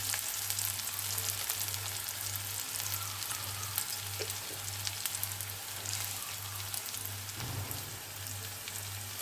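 Food sautéing in a pan with tomato about to be added, giving a steady close sizzle and crackle with occasional stirring scrapes over a low rhythmic hum.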